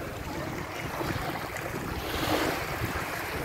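Ocean waves break and wash up on a sandy beach in San Francisco, a steady close roar of surf with some wind buffeting the microphone throughout.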